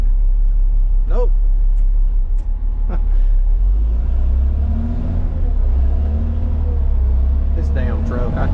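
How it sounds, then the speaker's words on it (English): A pickup truck stuck on wet grass, its engine revving and rumbling steadily with wheels spinning in a field, loud and close throughout, with a voice briefly exclaiming over it. "This damn truck, I tell y'all what."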